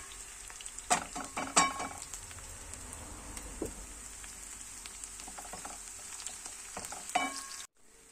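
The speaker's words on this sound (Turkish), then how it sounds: "sarımsakları da içerisine döküyoruz" Garlic sizzles quietly with onions in a pan, with a few sharp clinks and scrapes early on over a soft frying hiss that stops abruptly near the end.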